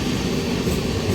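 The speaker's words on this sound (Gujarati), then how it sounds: "ટ્રેન આવી ગઈ છે ગાઈસ।" A MEMU passenger train rumbles steadily at a railway platform, its low continuous roar and rolling noise filling the clip at close range without any voices.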